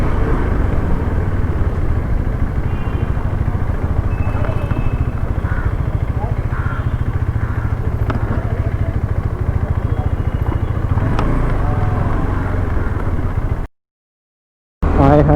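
A KTM Adventure 390 motorcycle rides along with a steady, loud engine drone and road rumble, broken by a brief dropout near the end; a voice talks over it.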